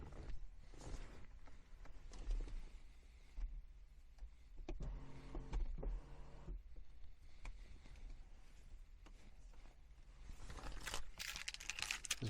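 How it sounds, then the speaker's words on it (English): The shade on the panoramic sunroof of a 2016 Ford Mondeo opens with a faint electric motor whir and soft sliding rustle inside the cabin, quiet and continuous. "this car does come with a panoramic sunroof"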